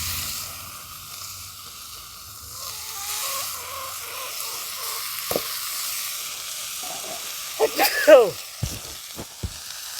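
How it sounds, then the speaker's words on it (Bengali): Chopped spinach going into a pan of fried onion and tomato, giving soft sizzling and a few sharp clatters of stirring near the end, fairly quiet overall. "দেখুন পেঁয়াজ আর টমেটোটা ভালো করে ভাজা ভাজা করে নিয়েছি। এরপর আমি দিয়ে দেবো এই কেটে রাখা পালং শাক।"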